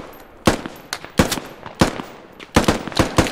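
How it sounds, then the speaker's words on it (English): AK rifle fire in the tactical shooter Squad comes as loud, sharp gunshot bursts: single cracks, then a tight double and triple volley near the end, each ringing out over quiet gaps. "AK fire west"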